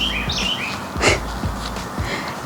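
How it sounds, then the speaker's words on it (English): A small bird chirps in quick high twittering calls outdoors while potatoes are planted in a 7-gallon grow bag, with soft handling noises and low background rumble. "a little bird, y'all, he's cracking me up"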